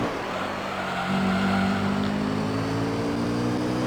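A Toyota Supra race car in the Gran Turismo Concept video game runs around the Autumn Ring circuit, its engine a steady, loud droning tone that swells slightly about a second in and then holds.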